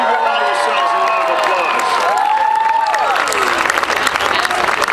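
A large crowd at a college hockey national championship rally claps and cheers loudly, with whoops and shouts riding over continuous applause for several seconds.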